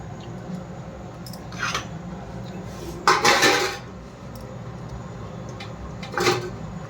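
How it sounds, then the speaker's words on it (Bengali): Pithe rice cakes dropped one at a time into a pot of milk for pithe payes, giving a few separate clinks and soft splashes against the pot, the loudest burst in the middle, with no talking. "এক এক করে সব পিঠেগুলো এর মধ্যে ছেড়ে দিচ্ছি দুধের মধ্যে"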